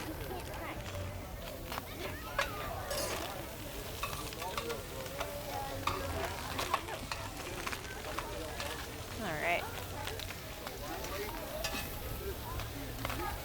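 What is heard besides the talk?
garlic and tomatoes sizzling in pan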